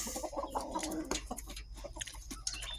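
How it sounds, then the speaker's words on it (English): A farm's main rooster clucks in a yard, a run of short, close, fairly soft calls repeating in an uneven rhythm, with other birds faint in the background. "Mr. Rooster. It's our main rooster."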